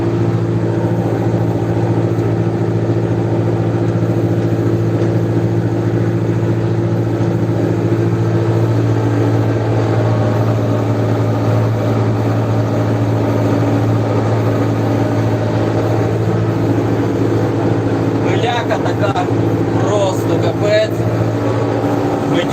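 A YTO 804 tractor engine drones steadily and loudly throughout while baling straw with a Claas Variant 385 round baler, with a continuous low hum and faint mechanical clatter near the end.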